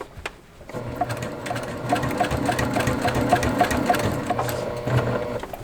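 A sewing machine stitching a patriotic quilted table topper runs steadily and close after a brief quiet start, its rapid even needle chatter holding a constant rhythm to the end.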